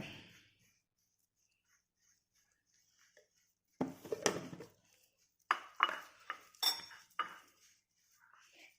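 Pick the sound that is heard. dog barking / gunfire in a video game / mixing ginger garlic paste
mixing ginger garlic paste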